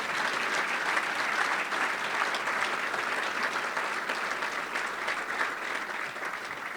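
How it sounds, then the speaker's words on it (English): Steady, dense audience applause at the Wake Forest Athletics scholarship celebration, sustained and even throughout with no speech over it. "Please, round of applause for Rob and Rob's family."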